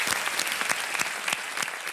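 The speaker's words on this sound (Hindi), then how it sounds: "तालियों के साथ इनका स्वागत हो जाए।" A studio audience at a televised quiz show applauds to welcome a contestant, a loud, continuous patter of many hands clapping unevenly with no voices over it.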